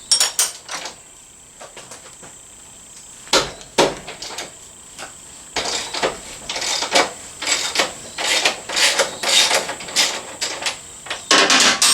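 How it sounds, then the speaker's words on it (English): A 19mm wrench and 24mm socket working loose the rear axle of a Honda CRF250L, producing a close series of metallic clacks, ratcheting clicks and knocks in irregular clusters, growing busier toward the end. "we're going to take a 19mm wrench over here and a 24mm socket over here to take the rear wheel off"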